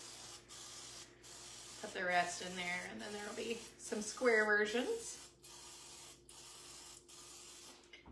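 Cooking spray hisses onto a brownie pan in a series of short, sharp bursts spaced roughly a second apart, while a person talks over part of it.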